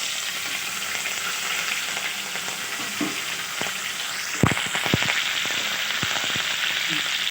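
Mustard seeds, cumin, chillies and curry leaves sizzle loudly in hot oil in a kadhai, a dense continuous hiss with a burst of sharp pops and crackles partway through.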